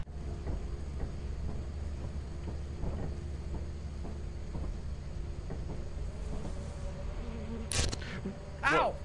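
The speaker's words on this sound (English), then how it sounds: "A fucking mosquito!" A mosquito buzzes in the video game Lethal Company, a steady insect drone over dense, rumbling game background noise. A brief, louder whining sweep rises near the end.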